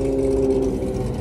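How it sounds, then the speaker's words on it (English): Big-block 465 nitrous drag car engine doing a burnout, a steady, loud droning roar held throughout a short moment. "Man, that thing sounds wild doing a burnout."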